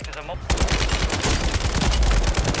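Rapid automatic gunfire in the Warzone video game, a dense burst of repeated shots running almost nonstop after a brief quiet start, loud and close.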